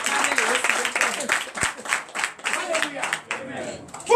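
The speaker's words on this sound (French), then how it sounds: "C'est pourquoi j'ai demandé à ce qu'on vous applaudisse" A church congregation at a Sunday service in Benin claps in a loose, uneven burst, with voices and cheers rising over the clapping throughout.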